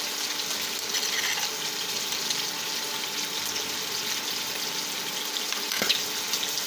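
Hilsa fish frying in hot oil in a pan, a steady broadband sizzle that holds evenly throughout with no talking.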